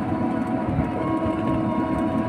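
A metro train runs at a metro station with a continuous low rumble and steady mechanical hum, loud and close, with no speech.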